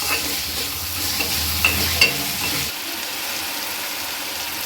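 Onion curry frying in a pan with salt added, stirred with a spoon: steady close sizzle with a few sharp scraping clicks, the frying hiss dropping off partway through.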